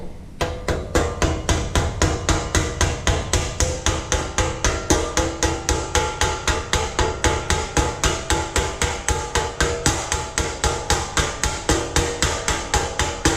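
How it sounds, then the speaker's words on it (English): Rapid hammer blows set a rivet head against an anvil while a toolbox end is attached to its bottom. About seventy bright metallic taps come in a fast, even rhythm, close and loud, with no talk. "The head of this rivet is sitting on that anvil."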